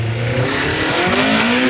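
Rally car pulling away from the start line on a stages rally, engine revving loudly and climbing through the revs, with a rising harmonic whine as it accelerates.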